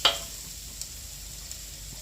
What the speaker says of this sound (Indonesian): Ini saya langsung saya tumis ya.